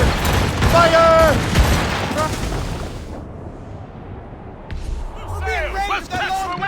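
Naval battle in Assassin's Creed Rogue: loud ship cannons firing in a burst of heavy booms, then a quieter lull and more blasts, with shouted orders and crew voices over the gunfire.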